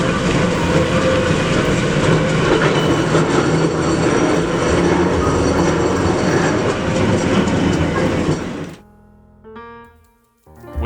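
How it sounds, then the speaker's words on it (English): Red Arrow Line 66 trolley at the Pennsylvania Trolley Museum pulling away from East Campus on rails, a loud steady rumble of wheels on track for about eight seconds before cutting to near silence with faint tones. "we catch Red Arrow Line 66 depart the East Campus for a last trip around the railroad"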